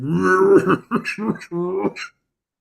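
A man clears his throat and coughs in a few rough, voiced bursts, close and fairly loud, during a tabletop role-playing game session.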